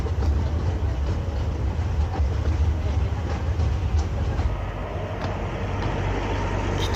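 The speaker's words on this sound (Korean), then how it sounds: "기차 선로가 하나라서 이렇게 두 열차가 충돌하지 않도록 잠깐 기다렸다가 다시 출발했어요." Train near Iguazu on a single-track line pulling away, a continuous low rumble of wheels and carriages with steady broadband rolling noise and faint clatter, close and sustained throughout.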